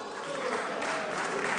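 Applause rises from members in a parliament chamber during a debate on a bill about regional boundaries and elections, a dense, brief burst of clapping at a moderate distance.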